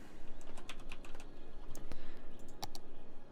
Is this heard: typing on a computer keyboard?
yes